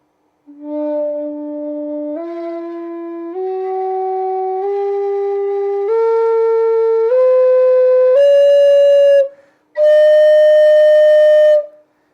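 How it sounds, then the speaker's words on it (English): A breathy, mellow low D whistle with closed fingering climbs a scale one steady held note at a time, ending on a high note after a brief pause, played alone and close. "it's the closed fingering low D whistle. Has a gorgeous tone to it."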